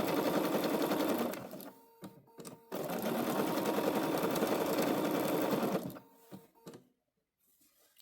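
A sewing machine stitches seam binding onto an autumn quilt in a fast, steady whirring run, pauses briefly, then runs again before a few short bursts and quiet.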